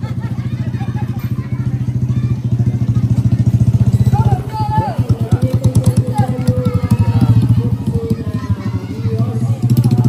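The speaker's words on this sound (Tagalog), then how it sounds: "May motor! May motor!" A motorcycle engine rumbles loudly and steadily nearby, with people talking and calling out over it.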